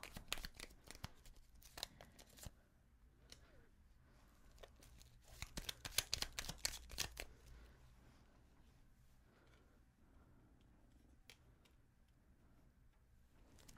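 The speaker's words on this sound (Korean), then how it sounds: "요거는 추가 카드를 좀 뽑아 보도록 할게요" Tarot cards are shuffled by hand before extra cards are drawn: quiet, close, crisp flicks and riffling bursts, with a dense run of snaps midway and sparse ticks between pauses.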